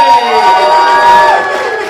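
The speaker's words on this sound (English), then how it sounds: "Clap it up right now for Dave Sheehan, everybody!" A roast battle comedy audience claps and cheers for judge Dave Sheehan in a loud, brief burst of crowd noise that stays strong throughout.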